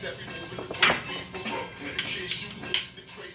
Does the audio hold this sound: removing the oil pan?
yes